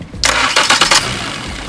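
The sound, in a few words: car engine starting and idling after plug repair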